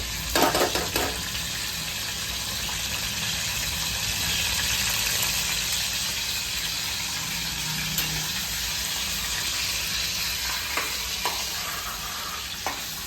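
Garlic, ginger and chili paste sizzles steadily in a hot pan for a Malvani kaleji masala, a continuous close hiss with occasional stirring scrapes and no voices.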